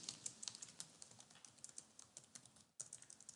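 Quick, irregular keystrokes on a computer keyboard while code is entered into a Web.Config file, a close, quiet clatter of crisp taps with a short pause before the typing resumes.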